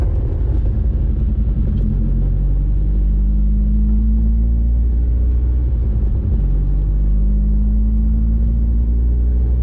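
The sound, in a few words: car engine running and revving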